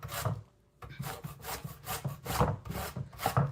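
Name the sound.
zesting a lemon on a grater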